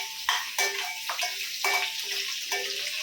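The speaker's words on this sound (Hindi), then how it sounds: "लहसुन को अच्छे से फ्राई करेंगे।" Garlic frying in hot oil for a dhaba-style garlic chicken, a steady sizzle with repeated scraping and stirring taps of a utensil against the pan, close by and without speech.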